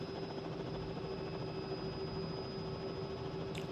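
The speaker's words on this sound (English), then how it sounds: "as we kind of come in here and get set for this landing, the helicopter feels really smooth" CowanSim R66 helicopter landing in the Microsoft Flight Simulator video game, a steady, faint, even rotor and turbine drone with a constant whine, no talk over it.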